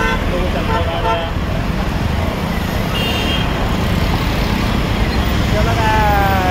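Busy night road traffic rolls past with cars roaring by and horns tooting in short bursts, loud and close, while people talk over it.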